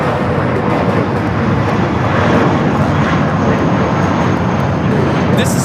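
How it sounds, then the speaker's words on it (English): A Spirit Airlines Airbus A320 departs LAX for New Orleans, its engines producing a loud, sustained broadband roar that stays steady throughout, with faint conversation mixed beneath. "This is Spirit Airlines 754 taking off to New Orleans on the A320"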